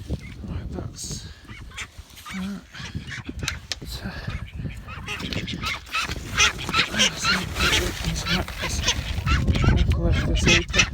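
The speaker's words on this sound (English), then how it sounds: "Chickens, ducks." Chickens and ducks honk, quack and cluck in a noisy farmyard on a rainy day, an excited jumble of bird calls close by, mixed with a person talking.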